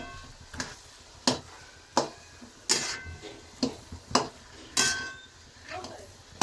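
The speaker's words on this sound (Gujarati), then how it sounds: "ઘીમાં આને આપણે શેકી લઈશું ઘીમાં થોડી વાર માટે" Sweet potato pieces roast in ghee in a pan for a sweet potato shiro, heard as repeated sharp spoon scrapes and clinks against the pan every second or so over a faint sizzle.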